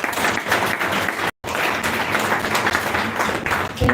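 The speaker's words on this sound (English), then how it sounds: "Let's give Prabhu a round of applause" A lecture audience applauds after a talk, steady dense clapping filling the room with one brief break near the middle, no voices over it.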